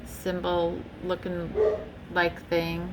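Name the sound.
dog barking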